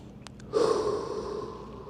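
A sudden breath during a forward-leaning lower-back mobility stretch comes through as a close, audible huff, then trails off into a sustained airy exhale after a couple of faint clicks.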